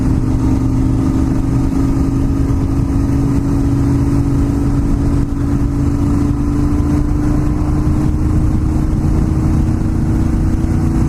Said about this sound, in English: I was tempted to blip the exhaust through that because I know it would echo.